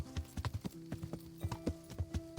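Horse hooves clip-clop at a steady walking rhythm in Kingdom Come: Deliverance, a run of close, dull thuds over a low, steady background hum.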